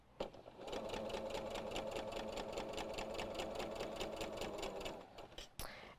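A sewing machine runs steadily for about five seconds, chain-piecing quilt triangles along a marked line, with a fast even stitching rhythm up close, then stops briefly before a short restart.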